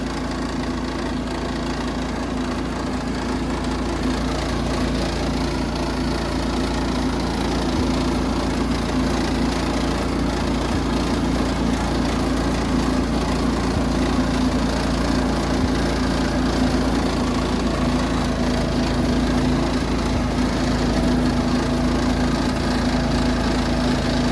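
A rattling old mud mower engine runs steadily at a rough idle for the whole stretch, close and loud, with a constant low hum and clattering texture.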